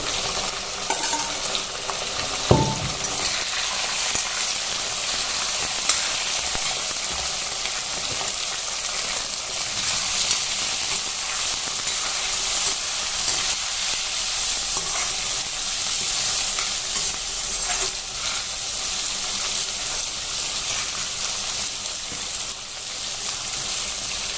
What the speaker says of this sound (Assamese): এতিয়া মই মাংসখিনি কেৰাহীত দি দিছোঁ আৰু মাংসখিনি অকণমান ফ্ৰাই কৰি থাকিম